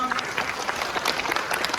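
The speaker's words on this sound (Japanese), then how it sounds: "盛大な拍手ありがとうございます。" Audience applause at a Japanese Web3 and finance conference, a brisk, dense patter of many hands clapping at close range, with faint voices mixed in.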